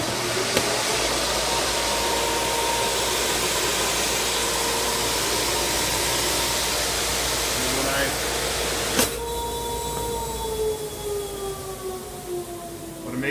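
A dust collector hooked to a miter saw runs as a loud, steady broadband roar with a low hum, then a sharp click near the nine-second mark as the pitch shifts and the whine continues more thinly.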